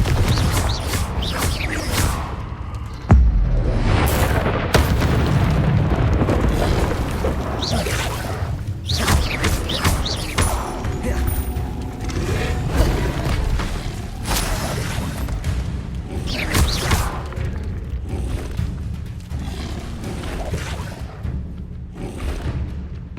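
Repeated Confringo fire spell explosions in the Hogwarts Legacy video game, loud booming blasts and whooshes layered over dense game sound effects and music, with no talk.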